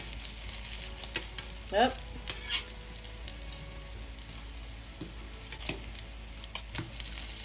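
Homemade potato cakes of grated potato, egg and flour fry in a pan with a steady close sizzle and crackle throughout, a few brief scraping clicks on top and a short exclamation from a voice.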